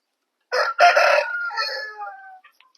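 A patta kondai breeding rooster of about 4.5 kilograms gives one loud, close crow, starting with sharp bursts and trailing into a long drawn-out call, clear and alone with no talking.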